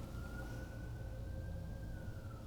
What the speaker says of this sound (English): I was gonna say, I hear a siren.